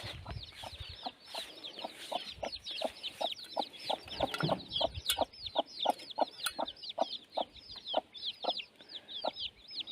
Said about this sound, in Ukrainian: Мама квочка.